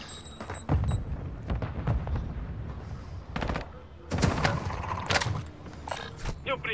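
Rapid gunfire bursts from a video game battle, several sharp volleys spread through the clip under steady voice chat and game noise.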